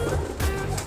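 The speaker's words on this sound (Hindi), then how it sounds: "ये सलारा कबूतर है" A salara pigeon coos softly and close, a brief low murmuring call under faint outdoor background noise.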